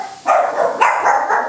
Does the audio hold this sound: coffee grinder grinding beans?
no